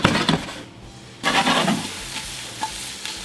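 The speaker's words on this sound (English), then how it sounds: "we're gonna toss in our onions. We're gonna cook these up till they're translucent" Onions cooking in melted butter in a pan, with a bright sizzle punctuated by stirring scrapes and clinks of a utensil; a brief quiet gap, then the frying resumes loudly.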